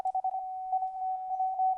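CW Morse code tones played through N4PY radio software, a clean steady beeping tone keyed in quick dots and dashes at close range, loud and clear with no talking.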